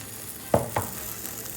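Pancake batter meets a hot buttered pan, giving two quick near knocks or pours followed by a soft, steady sizzle that stays low and even for the rest of the moment.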